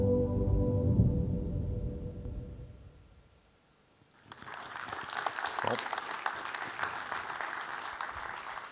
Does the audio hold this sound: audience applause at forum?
yes